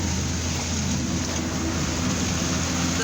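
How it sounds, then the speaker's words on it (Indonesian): Heavy rain with strong wind in Bogor, heard from inside a moving car, a dense, steady roar of rain and wind noise over low road rumble, continuous and loud throughout. "Ternyata hujannya dari tadi udah ada sejam."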